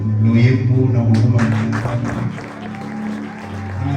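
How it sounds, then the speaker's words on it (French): A church congregation at a Sunday service breaks into applause, a dense patter of many hands that starts after someone speaks over a low sustained tone, then carries on with scattered claps. "Est-ce que vous pouvez m'aider à applaudir"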